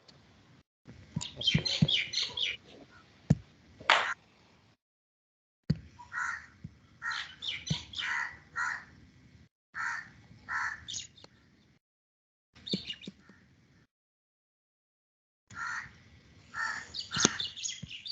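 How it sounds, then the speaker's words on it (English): Crows caw repeatedly outdoors in short bursts with pauses between, fairly distant and faint, with occasional smaller bird chirps and no talking. "So other sound is also coming. That's why. Yeah, birds are there. Breeze is there."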